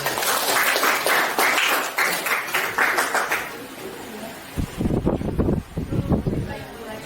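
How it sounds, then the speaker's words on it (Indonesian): Classroom applause for a student group, a burst of many hands clapping after a teacher speaks, fading out as talking resumes alongside scattered claps. "kita berikan tepuk tangan untuk kelompok 4"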